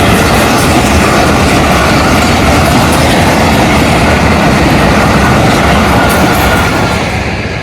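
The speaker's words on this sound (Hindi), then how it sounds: "रेलगाड़ी चले गई है जी" A train rolls past up close, a loud, steady rumble of railroad cars with rhythmic clickety-clack of wheels on track, unbroken for the whole stretch and easing off slightly at the end.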